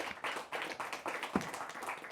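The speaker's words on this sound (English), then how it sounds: "Give yourselves a round of applause for making it this far." Quiz bowl participants clap at the opening of a semifinal round, a quiet, steady patter of many hands sustained throughout with one sharper clap near the middle.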